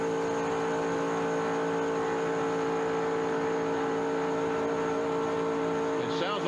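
A NASCAR Busch Grand National stock car runs flat out at Daytona in 1996, producing a loud, unbroken engine drone with steady tonal whine throughout.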